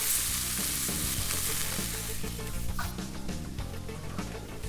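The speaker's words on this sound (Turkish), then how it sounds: "Şöyle bunları birbirine güzelce karıştıracağım." Chickpeas being stirred in a hot pan, with steady frying sizzle and scraping stir sounds throughout, loud and close, with no talk.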